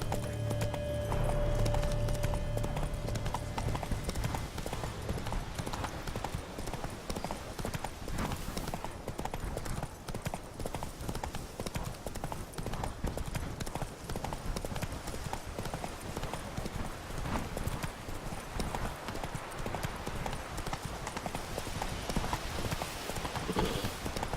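Roach, a horse in The Witcher 3, galloping with fast rhythmic clip-clop hoofbeats that run steadily throughout, with a brief snort near the start.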